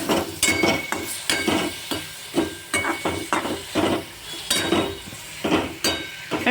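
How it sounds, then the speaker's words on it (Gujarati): A spoon stirring about a cup of tomatoes frying in oil for paneer bhurji, rhythmic scraping clinks against the pan every half second or so over a soft sizzle, close and clear. "હવે ફ્રેન્ડ્સ એને ટમેટાને થોડીક વાર હલાવશું"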